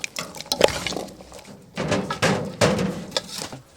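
Scraping and clinking of a utensil stirring food with cashews, dried red chillies and curry leaves in a metal pot, in uneven bursts with a faint sizzle underneath.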